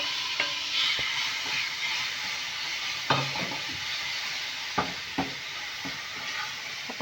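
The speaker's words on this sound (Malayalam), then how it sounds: "ഇതിലേക്ക് നമ്മൾ ചെറിയ പീസായിട്ട് അരിഞ്ഞ് വെച്ച ആ മാങ്ങാ കഷ്ണം ഒന്ന് ഇതിനകത്തേക്ക് ഇട്ട്" Small mango pieces roasting in caramelized sugar in a pan, a soft steady sizzle broken by several distinct stirring scrapes and taps of the spoon, close and moderately quiet, no voices.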